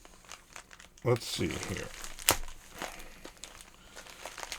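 Plastic mail package from AliExpress being crinkled and torn open by hand, a burst of loud rustling followed by softer crackling handling, with someone speaking briefly at the start.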